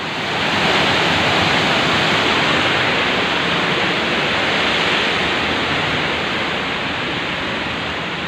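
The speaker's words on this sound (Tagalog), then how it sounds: "Ang sarap ng pakinggan ng tunog ng tubig." Loud, steady roar of rushing water pouring over Wawa Dam in Montalban, Rizal, a constant broadband hiss with no pauses or voices.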